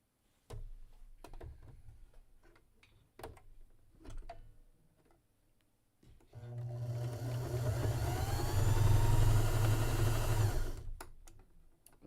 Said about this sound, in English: put that clip on and sew that seam